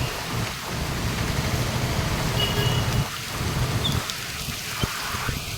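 Heavy rain pours down steadily in a dense, loud hiss during a downpour that floods roads and shops, with a few faint rumbling and clattering sounds underneath.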